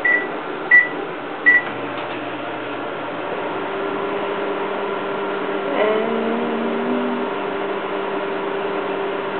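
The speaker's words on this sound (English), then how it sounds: "Now we're going to stick it in the microwave and see what happens." Microwave oven running while heating dried Floam in water, a steady low hum and whir, preceded by a few sharp keypad beeps at the start and a faint shift midway.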